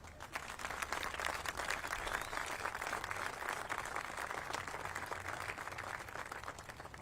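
An audience at a Georgia economic development announcement about Rivian applauds, a thick, sustained wash of many hands clapping that holds evenly for several seconds.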